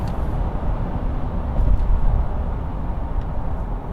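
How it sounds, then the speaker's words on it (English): A VW Amarok 3.0 TDI pickup on a dyno accelerating through its gears in sport mode, a loud steady low diesel drone with subtle rises and dips as it shifts. "It's whipping through gears a bit quicker."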